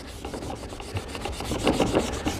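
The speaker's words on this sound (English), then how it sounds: "you wet sand it, the better it's going to turn out" Wet sanding a foggy plastic headlight lens, a steady close rubbing rasp with rhythmic back-and-forth strokes that swell slightly louder toward the end.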